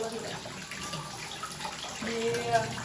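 Water sprayed under pressure during Holi gives a faint hissing, splashing stream that runs quietly and unevenly under low background noise.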